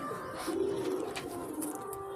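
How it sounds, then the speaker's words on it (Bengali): A pigeon cooing nearby, soft low rolling coos repeating over a faint background. "আর একটা ভালো কবুতর আমি দেখাচ্ছি আপনাদের"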